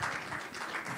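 Brief burst of audience applause for a children's Bharatanatyam group at a business conclave in a Chennai hotel hall, soft and muffled, a diffuse wash of many hands clapping for about a second.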